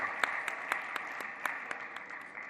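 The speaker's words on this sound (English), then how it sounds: "So, a big round of applause." An audience at a tech hub launch gives a round of applause, a fairly soft, even clapping texture at moderate distance with a few sharper individual claps standing out.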